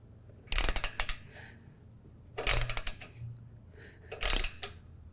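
A socket wrench turns to snug down a cap on the engine of a John Deere Z730M zero-turn mower, giving three separate bursts of close ratcheting clicks with quiet pauses between.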